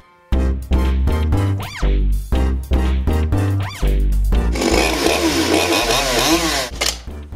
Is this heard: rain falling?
no